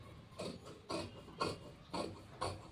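Scissors cutting blouse fabric for a princess-cut blouse, five evenly spaced crisp snips close up and fairly quiet, with no talk.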